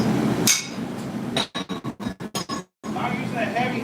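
Hammer striking a hot steel spoon at a forge, a quick run of about eight sharp metallic blows in steady rhythm, with someone talking before and after.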